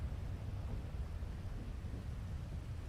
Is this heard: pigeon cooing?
no